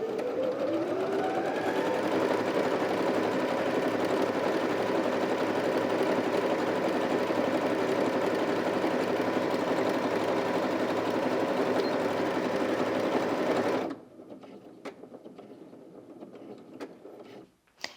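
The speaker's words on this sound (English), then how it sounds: "it carries on sewing until it reaches the end of the pattern" A Janome 360DC sewing machine stitching, a steady close whirring motor hum with a slight rise in pitch at the start, stopping abruptly and followed by quiet handling clicks.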